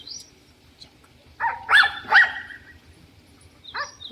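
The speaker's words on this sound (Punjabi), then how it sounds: "ਗਵੰਡੀਆਂ ਨੇ ਕੁੱਤਾ ਭੌਂਕੀ ਜਾਂਦਾ" A dog barks several times at moderate distance, a few sharp yelps spaced irregularly over a quiet background.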